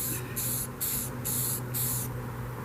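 Varnish is sprayed onto a painting in four or five even, hissing bursts with short gaps, close and steady over a low background hum.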